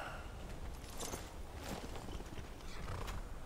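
Hooves clop along steadily with a continuous noisy hiss in the background, the rhythm of a walking horse in Skyrim.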